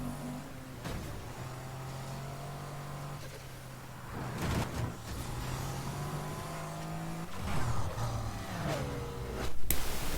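A car engine in the racing video game Need for Speed Heat drones at a steady pitch, then revs and shifts through several gear changes with rising and falling tones, loud and close throughout.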